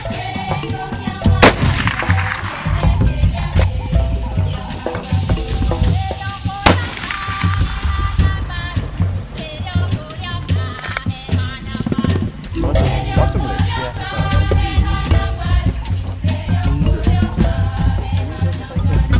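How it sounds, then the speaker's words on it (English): Hunting rifles fired to confirm zero before a hunt in Namibia: two sharp, loud shots cut through a continuous bed of music, one early and one a few seconds later. "Our first day begins with checking our rifles. We confirm our zero and make sure everything is in order after the long trip."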